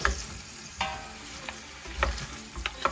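Lamb trotters and onions frying in oil in a pot, a steady close sizzle with occasional stirring clatters and scrapes over about three seconds, no talking.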